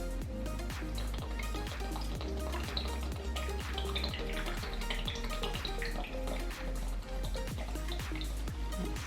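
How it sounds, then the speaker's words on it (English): Coconut water being poured into a blender for a green smoothie, a continuous liquid splash and trickle that runs steadily and close by, with no talking over it. "So I'm going to add the coconut water."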